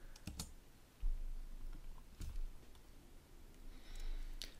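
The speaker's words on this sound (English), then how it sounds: "So I'm going to type it out." Keys on a computer keyboard being typed while entering an email address at a sign-in screen, a few scattered clicks and taps at moderate distance with no voice.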